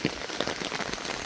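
Steady rain patters and hisses on surfaces all around during a walk with several dogs, a dense continuous wash with no voices.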